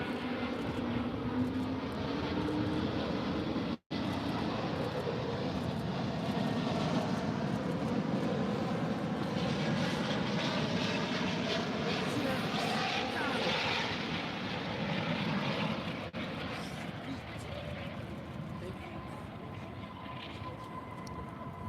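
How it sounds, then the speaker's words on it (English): A Delta airliner lands on runway 18 left at DFW, a steady, fairly distant jet engine roar with broadband rumble that holds throughout and eases slightly toward the end, with faint voices in the background. "Very nice landing there."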